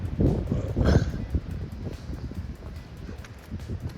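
Wind gusts across an exposed stretch of the Appalachian Trail, buffeting the microphone with a low, steady roar and louder surges near the start, plus faint rustling.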